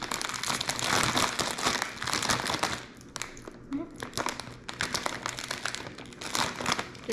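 A plastic bag being folded over and clipped shut by one hand, with repeated crinkling and rustling of the plastic up close throughout, alongside light handling clicks.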